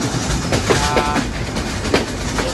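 Sundarban Express passenger train rolling along and switching from one track to another, heard from on board as a loud continuous rumble with repeated clickety-clack wheel knocks over the rail joints and points.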